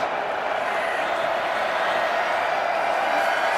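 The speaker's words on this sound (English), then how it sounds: "You can hear the Minnesota crowd here now" Minnesota's home crowd at a college football game against UCLA sends up a steady, loud roar that holds evenly from start to finish with no distinct breaks.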